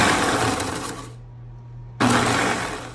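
A food processor pulses to grind graham crackers into crumbs, two loud bursts of whirring and rattling split by a second-long pause.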